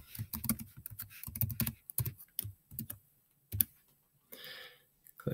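A password is typed on a Chromebook keyboard, with bursts of quick, close key clicks separated by short pauses and a final rattle of keys, without any voices.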